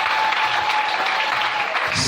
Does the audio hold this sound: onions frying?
no